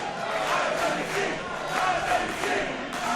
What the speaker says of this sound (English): And the crowd appreciating.